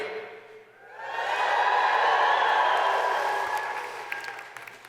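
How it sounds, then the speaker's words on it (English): Graduation convocation crowd at Athabasca University swells into a loud, sustained cheer with whoops and applause, building after a brief lull and slowly fading near the end. "If anyone here today, I don't know, is happy, let me hear a big cheer"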